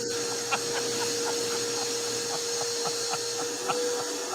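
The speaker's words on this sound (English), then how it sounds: "Freaking vacuum cleaner." A vacuum cleaner runs continuously as a loud, steady whine with a constant hum, with faint clicks and bumps scattered through it.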